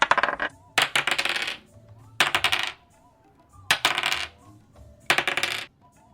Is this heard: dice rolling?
yes